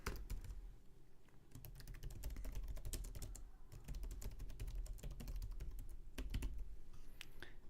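Steady typing on a computer keyboard, with rapid clustered key clicks continuing nonstop at close range and no voices present.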